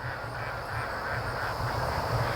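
Ducks quack in agitation as seagulls disturb them, a busy cluster of raspy calls overlapping in quick, uneven bursts, moderately close and continuous.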